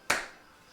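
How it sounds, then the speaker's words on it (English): One sharp hand clap sounds close and crisp, followed by a brief fading tail in an otherwise quiet room. "I don't know why I clapped."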